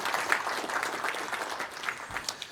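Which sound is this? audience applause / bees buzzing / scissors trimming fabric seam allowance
audience applause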